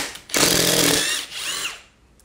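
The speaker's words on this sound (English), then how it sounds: "So make sure you remember to use your countersink, which is right here." A power drill fitted with a countersink bit bores a hole in a garage workshop, one loud, close whirring burst lasting about a second before winding down and trailing off, with no talk.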